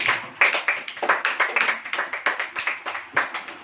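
A church congregation claps along in a steady rhythm of sharp, repeated hand claps, fairly loud and close, with no talking over it.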